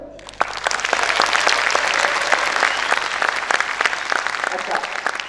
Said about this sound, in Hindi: वो अपनी तालियों में, आवाज में एक्नॉलेज करके जोर से बताएं।